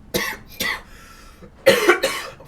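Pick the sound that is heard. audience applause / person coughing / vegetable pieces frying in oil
person coughing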